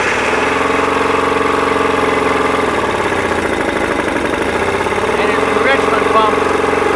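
A Johnson 50 outboard motor with a carburetor problem runs loud and close with a steady droning rumble that wavers in pitch partway through, with a voice speaking over it.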